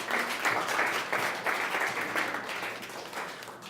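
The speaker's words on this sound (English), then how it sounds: "Big round of applause for Linda." An audience at a body language show gives a round of applause for a participant, a dense, steady patter of many hands clapping that fills the room evenly and slowly eases off toward the end.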